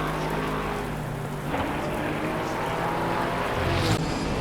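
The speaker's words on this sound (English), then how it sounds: "The rain was impacting more than just traction" Rain falling during a car race, a steady wash of noise with faint car engine rumble underneath and occasional brief surges, moderately quiet and continuous.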